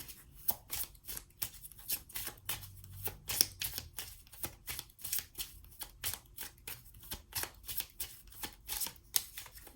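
Oracle cards being shuffled and drawn from a Love Compass deck, a steady run of crisp, papery riffs and flicks repeating through the whole stretch, close to the microphone with no talking.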